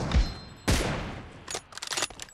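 Gunfire in PUBG Mobile, including an M24 rifle: two heavy booming shots with reverberant tails, followed by a cluster of lighter quick bursts and clicks.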